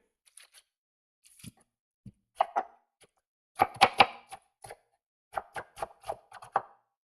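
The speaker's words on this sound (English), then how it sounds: "Et voila, the onions are cut." A knife chops onions on a board in irregular bursts of crisp close-up cuts, sparse at first, then quick clustered strokes, with silence between.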